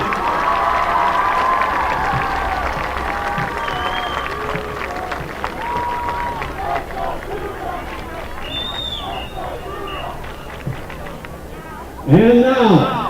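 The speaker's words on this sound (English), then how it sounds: "how about a nice round of applause for all of the seniors out here tonight?" Crowd at a high school football game between Altoona Mountain Lions and Cedar Cliff Colts, a steady roar of applause and cheering filling the stadium, with a louder burst near the end.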